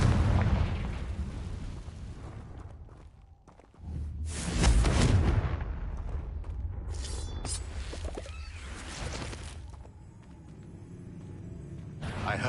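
In the Hogwarts Legacy game, the Confringo fire spell goes off as a heavy explosive boom followed by crackling, rumbling blasts and scattered pops, loud and layered over a constant game background.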